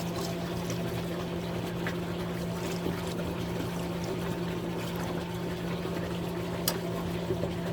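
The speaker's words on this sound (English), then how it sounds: "let me add some more water" Water pours steadily into a bucket to test a float switch for a tank pump, a continuous low splashing with a constant hum underneath and no speech.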